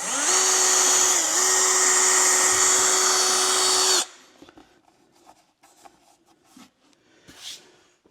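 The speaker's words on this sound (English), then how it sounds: "So I'm just using regular drywall screws." A power drill drives coarse-thread drywall screws into a wooden jig with a loud, steady whine for about four seconds, dipping briefly under load, then stops, leaving faint clicks and handling noises.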